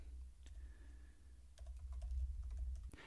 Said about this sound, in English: you click anywhere you want to start typing